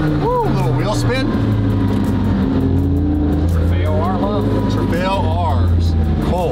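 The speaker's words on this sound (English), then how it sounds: "This thing picks up. Woo, a little wheel spin." A hypercar roars hard under acceleration with a little wheel spin, its engine note sweeping up through gears loudly and close, while excited voices talk over it.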